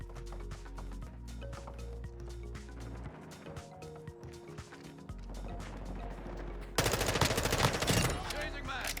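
Rapid M4 rifle fire in a Call of Duty match, with bursts of sharp repeated shots over game sounds and a louder, denser stretch of fire near the end.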